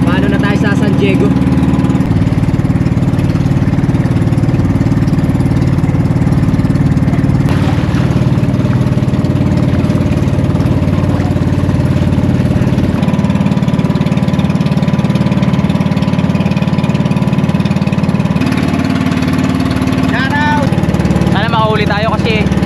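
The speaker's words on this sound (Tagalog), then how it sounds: "Yung tunog ng bangka" A fishing boat's engine runs continuously at sea, a loud, even rumbling drone that shifts slightly in tone partway through, with faint voices and whistle-like sounds over it near the end.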